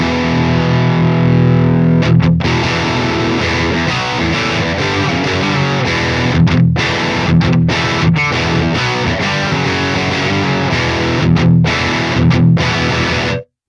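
Heavily distorted high-gain metal electric guitar through an MLC Sub Zero amp simulator with the gain pushed up, playing dense chugging riffs with brief choked stops, loud and continuous throughout.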